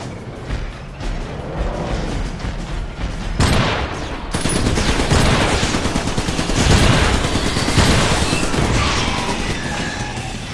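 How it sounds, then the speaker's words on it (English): Shotgun turret fire in the Xbox 360 game Iron Brigade, a dense, continuous barrage of loud blasts and crashing impacts that builds into sustained heavy gunfire for about ten seconds. "Shotgun turret inbound to your location."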